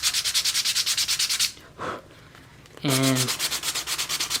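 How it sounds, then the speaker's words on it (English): Sandpaper rubbed along the edges of a leather wallet in quick, steady back-and-forth strokes, close and clear, pausing briefly while a voice speaks before the rhythmic sanding resumes. "I will sand all the edges down."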